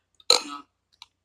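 One short, fairly quiet burp, followed by a couple of tiny clicks in near silence.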